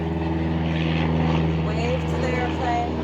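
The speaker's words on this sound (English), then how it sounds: "I told you you'd hear an airplane. Here it comes." A propeller airplane passes overhead outdoors as a steady droning hum with layered engine tones, continuous and moderately loud over the short stretch.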